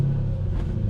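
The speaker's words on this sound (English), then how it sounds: "Exhaust sounds a little bit loud." An auction car's engine rumbles steadily and close during an inspection, with a loud exhaust giving a deep, continuous drone.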